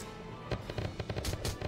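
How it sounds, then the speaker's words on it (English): Gunfire in the video game Valkyria Chronicles: a rapid run of sharp, crackling shots in bursts, loud and close, with no talk over them. "Oh fuck, I'm being shot at."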